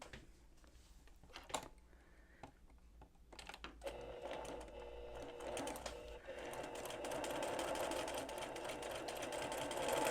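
A sewing machine stitching a quarter-inch quilt seam, starting with a few clicks and handling noises, then a rapid steady whir that builds and runs continuously, close by, no talking.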